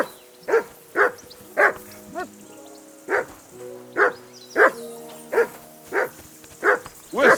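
A dog barks in the medieval game Kingdom Come: Deliverance II, giving about a dozen loud, evenly spaced woofs over a quiet background with a faint whine between them.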